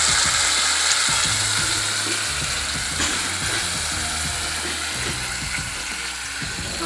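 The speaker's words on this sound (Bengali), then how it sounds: "সরষেটা ভালো করে কষিয়ে নিতে হবে, তেলটা একটু লো করে।" Mustard paste frying in oil on low heat for a chapila fish mustard curry, a steady close sizzle that runs throughout, with intermittent scraping and stirring clicks against the pan.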